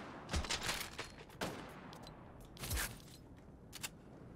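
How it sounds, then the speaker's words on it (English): Gunfire in a Fortnite Chapter 3 solo match: a few sharp, fairly faint shots and short bursts spread out over quiet background sounds, with no talking. "Someone definitely tried to shoot me then"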